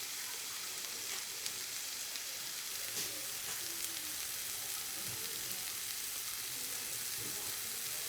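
Steady, soft sizzle and crackle of jackfruit frying in a pan as barbecue sauce goes in, a continuous hiss with faint stirring bumps and no talking.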